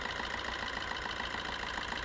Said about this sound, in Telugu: ఇంజన్ బీటింగ్ కూడా చాలా అంటే చాలా బాగుంది